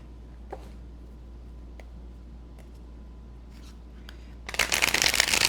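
A tarot card deck is shuffled near the end after faint ticks and quiet room tone, giving a brief dense riffling burst, close and fairly loud, with no talk during it.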